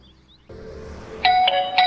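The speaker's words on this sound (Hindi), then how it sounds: "लो, घंटी बज गई" An electronic doorbell chimes several bright, ringing tones in quick succession over a low background hum, clear and fairly close.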